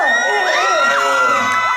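A theatre audience at a film open-talk event screams and cheers loudly and continuously, with high excited voices close and filling the room.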